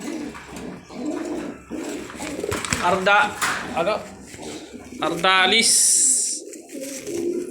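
A racing pigeon coos softly nearby while someone talks over it; the cooing repeats a few times between his words.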